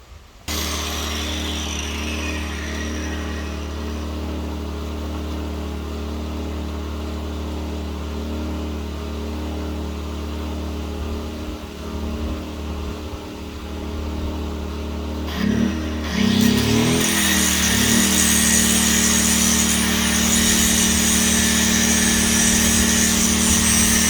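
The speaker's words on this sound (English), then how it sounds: "I'm just going to give them a quick field sharpening, and that should work for today." Bush hog mower blades get a quick field sharpening with a power grinder, a steady droning whine over a low engine hum that turns harsher and brighter as the grinder bites into the steel.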